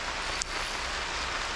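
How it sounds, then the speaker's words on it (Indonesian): Steady hiss of rain falling on a shrimp-fishing spot, a dense even wash of drops with no talking. "Banyak hujan pula."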